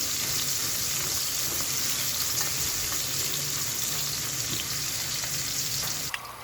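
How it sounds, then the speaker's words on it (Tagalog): Chopped onions fry in a hot pan for chicken kabsa, giving a steady, close sizzle throughout with a small clink near the end. "At lulutuin natin mabuti yung sibuyas para makuha talaga natin yung aroma"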